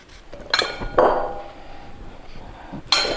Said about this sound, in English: I just slice them up in little pieces like this.